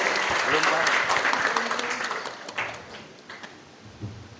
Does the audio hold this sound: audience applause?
yes